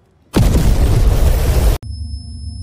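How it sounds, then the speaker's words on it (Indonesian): A hospital in a film blows up from the room of Alana's mother: one sudden, loud, close blast with a dense roar that holds for about a second and a half, cuts off sharply, then gives way to a low, steady rumble. "rumah sakit itu pun meledak, tepatnya dari kamar ibunya Alana"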